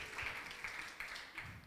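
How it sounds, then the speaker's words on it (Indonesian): Scattered applause from a youth gathering audience, a quiet, thin patter of claps with small bursts, moderately distant and fairly faint. "Ya boleh tepuk tangan dulu"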